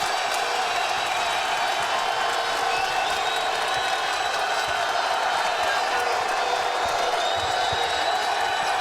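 A packed basketball arena crowd roars and cheers in a sustained, dense wall of noise during a West Virginia vs Clemson college game, with a commentator talking over the din.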